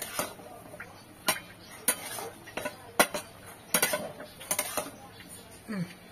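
Metal spoon stirring fish roe with chopped coriander in a kadai, giving irregular sharp scrapes and clinks against the pan, moderately loud and close, with soft background noise between strikes.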